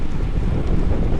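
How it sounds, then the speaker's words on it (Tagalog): Strong wind roars and buffets the microphone during a fast boat ride, a loud, continuous rumbling gust noise with no voices. "Sobrang lakas ng hangin."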